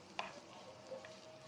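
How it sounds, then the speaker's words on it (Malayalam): Egg thoran being stir-fried in a pan, a short burst of spatula scraping over a steady low sizzle, heard alone at a modest level. "നന്നായിട്ട് വഴറ്റി കൊടുക്കാം."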